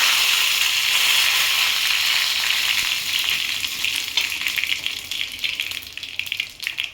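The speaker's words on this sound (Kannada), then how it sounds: "ಈಗ ಎಣ್ಣೆ ಕಾದಿರಬೇಕು. ಸಾಸಿವೆ ಒಂಚೂರು ಹಾಕ್ತೀನಿ, ಜೀರಿಗೆ ಒಂಚೂರು, ಓಕೆ, ಹಾಗೆ ಒಂಚೂರು ಕರಿಬೇವು" Mustard seeds, cumin and curry leaves sizzling in hot oil for haagalakaayi chutney, a loud, continuous crackling hiss close by that gradually settles and turns choppier toward the end.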